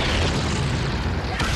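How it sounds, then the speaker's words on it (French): A meth lab explodes in the video game GTA V with a loud, dense boom. Broadband roar sustains the full length, with a sharp burst near the end. "Wow, ça a donc explosé."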